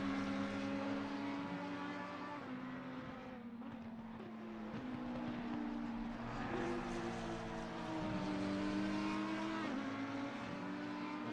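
An Audi R8 GT3 race car engine in a racing video game at Watkins Glen, revving steadily through gear changes with rising and falling pitch, close and continuous with no talking.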